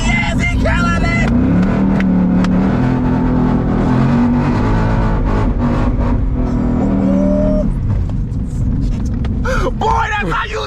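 Ford Mustang GT drifting on a rain-soaked road, its engine droning loudly and steadily with revving swells throughout, while excited voices shout over it.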